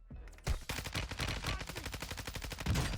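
Rapid automatic gunfire in Warzone 2, a dense run of sharp shots fired in quick succession that carries on almost without a break, loud and close, with heavier bursts near the start and end.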